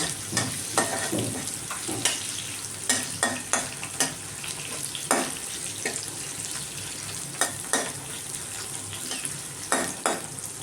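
Capsicum and mushroom fry in oil with a constant sizzle, broken by sharp scraping strokes of a spoon stirring the pan at an irregular rhythm, close and fairly loud, and nobody speaks.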